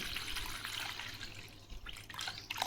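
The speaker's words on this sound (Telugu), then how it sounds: "ఆ బౌల్లో ఇలా మంచి నీళ్ళు" Water runs and splashes steadily into a steel bowl, a continuous bright trickle with no voices, close and fairly quiet.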